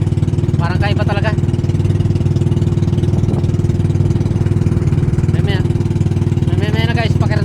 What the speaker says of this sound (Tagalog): May na guys, pakiramdam mo na makina ko.